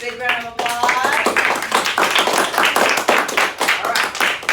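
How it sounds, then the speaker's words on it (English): Classroom applause for a candidate in a sixth grade mock presidential election, a dense burst of clapping from many hands that continues steadily, with voices mixed in. "Big round of applause."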